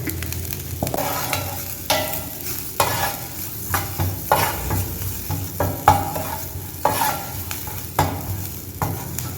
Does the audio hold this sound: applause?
no